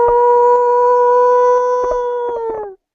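A man imitates a wolf howl as a live show stunt: one long, loud, steady vocal howl lasting nearly three seconds, its pitch sagging slightly before it cuts off, with no other voices.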